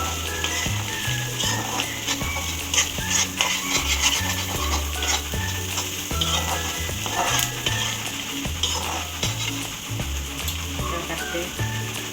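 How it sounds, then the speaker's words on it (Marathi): Onion frying in a pan on a home stove, a steady close sizzle throughout with occasional stirring scrapes and clinks of utensils, no talking. "आपण आता फ्राय करून घ्यायचं. कांदा जास्त लाल करायचं नाही."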